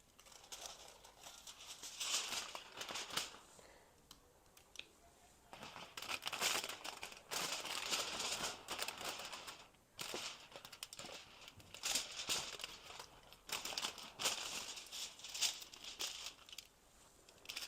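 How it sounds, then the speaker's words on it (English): Aluminum foil for hair highlighting being handled on a mannequin, soft close crinkling in several bursts separated by short quiet gaps, no talking. "I'm going to take my foil."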